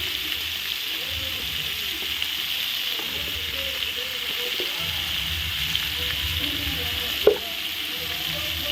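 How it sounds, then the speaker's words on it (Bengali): Paneer frying in oil with potato, salt and turmeric gives a steady, soft, close sizzle throughout, with a few light clinks from the pan. "আলু একটু লবণ হলুদ দিয়ে ভালো করে ভেজে নেব পনিরটা"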